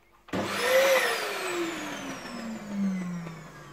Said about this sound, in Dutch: Dit is mijn 15 jaar oude Dyson DC20 stofzuiger.